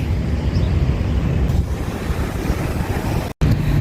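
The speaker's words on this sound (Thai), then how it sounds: "ลมเย็นสบายไม่ค่อยร้อนนะคะ" Steady wind blows across the lakeside of Bueng Phlan Chai in Roi Et, Thailand, a continuous rushing roar buffeting the microphone, with a brief dropout near the end.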